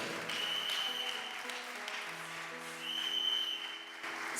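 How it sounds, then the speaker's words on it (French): A church congregation applauds loudly in praise of the Lord. The clapping is sustained and fairly distant, mixed with background music, with no one speaking over it. "Acclame fortement le Seigneur."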